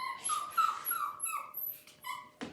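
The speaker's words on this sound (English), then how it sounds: "There goes my little dog." A small dog whimpers in a kitchen while biscuits are being made, giving a string of thin, high whines and yips at moderate volume, ending with a short sharper yelp.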